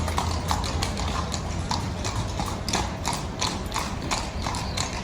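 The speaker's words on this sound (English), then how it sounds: "That horse knows how to prance right there." Rapid, rhythmic clip-clop of horse hooves prancing on pavement in Seville, Spain, loud and close, continuing steadily with a faint mechanical clatter.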